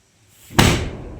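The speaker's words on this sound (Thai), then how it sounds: "โอ้ย เสียงประตู" A door shuts with a single sharp slam close by, preceded by a faint creak as it swings.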